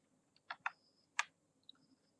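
Keys on a computer keyboard are pressed in a few sharp clicks, two close together and a third a moment later, then faint taps, quiet and close in an otherwise silent room.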